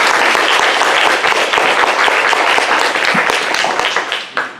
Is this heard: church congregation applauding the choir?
yes